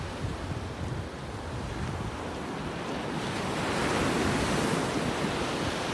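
Ocean waves at high tide wash onto Playa Smyrna beach in a continuous, close roar of surf that grows louder in the second half, with some wind buffeting the microphone.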